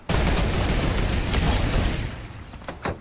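Rapid gunfire rattles in a mech video game, a dense, loud burst of repeated shots that carries on for about two seconds, then thins to a few scattered reports.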